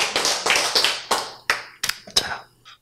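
A group claps in about seven sharp bursts spaced roughly evenly over three seconds, probably an audience at a Korean sermon or Bible lecture, loud and close with no talk over it.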